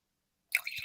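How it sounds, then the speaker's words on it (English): Prosecco splashes into a glass in a brief, close fizzing pour that starts abruptly after silence and lasts under half a second. "I'm gonna love the sound of cheeky pour."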